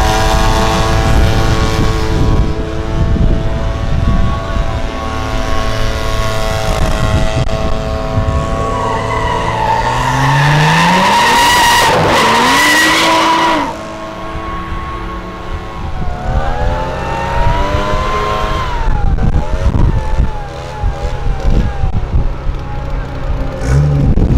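A turbocharged, nitrous-fed BMW of about 500 hp at a drag-race event revs loudly with rising engine harmonics and a tire-skid squeal midway, alongside crowd and other engine noise throughout.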